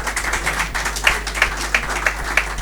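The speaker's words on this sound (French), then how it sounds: "Alors, on doit applaudir fort." Audience clapping at an awards ceremony in Kabanda, a steady patter of applause from a hall full of people with a few sharper, louder claps standing out.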